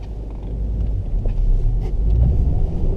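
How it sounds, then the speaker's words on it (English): Car tires spinning on snowy, salted pavement with traction control on, a steady loud low rumble of engine and wheelspin throughout, no talking. "we did spin the tires quite a bit, even with traction control on"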